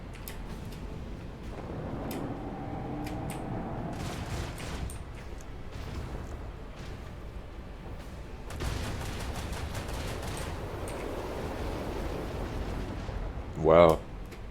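Ship weapons and torpedoes fire in the space-combat video game Warhammer 40k Rogue Trader, giving rumbling volleys and crackling bursts through a steady game soundscape, with a sharp blast near the end and a voice talking at times.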